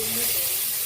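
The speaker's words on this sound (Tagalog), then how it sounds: "Lagyan na natin ng gata." Coconut milk poured into a hot pan for a seafood ginataan, giving a steady broadband sizzle and hiss that holds evenly through the short moment, close and fairly loud with no talk.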